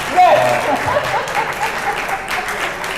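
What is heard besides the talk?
audience applause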